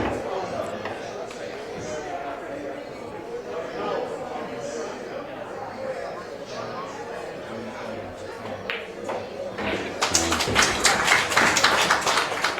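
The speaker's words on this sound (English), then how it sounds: "you hear the crowd there celebrating Justin Bergman taking that rack down" A crowd at a pool tournament bursts into loud, sustained applause and cheering near the end, following a stretch of murmuring chatter and scattered taps under a commentator's voice.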